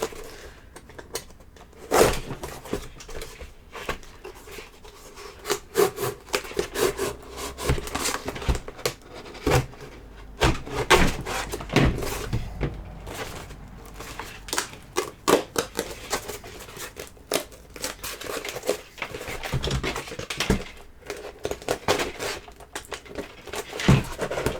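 Cutting apart an old power armour costume: steady crunching, snipping and rubbing of blades through stiff material, with irregular clicks and scrapes continuing close up throughout, no talking.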